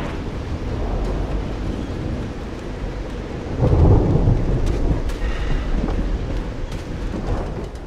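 A thunderstorm in the video game Call of the Sea, with steady heavy rain hissing throughout and a deep rolling thunderclap swelling in the middle before fading back into the downpour.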